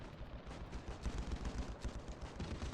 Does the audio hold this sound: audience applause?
no